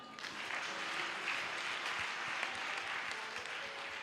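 Church congregation applauding during a worship service, a steady, dense wash of many hands clapping throughout, fairly even in level and filling the room.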